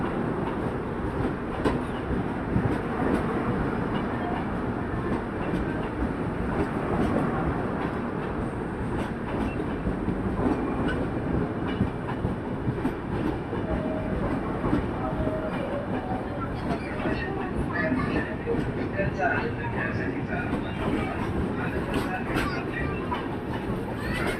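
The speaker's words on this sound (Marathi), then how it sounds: "Fast train is passing." A fast train, the Varanasi–Mumbai Mahanagari Superfast Express, rumbles through a station with a loud rattling clatter of wheels that lasts throughout, while a platform announcement voice sounds over it.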